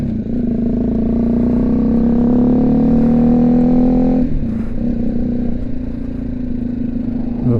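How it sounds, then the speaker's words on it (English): A BMW G310GS single-cylinder motorcycle with a loud aftermarket exhaust rides along, a steady droning engine note that rises, then drops abruptly as the throttle is eased, with wind rush throughout. "Now I wish I had a silence exhaust, because with the loud exhaust,"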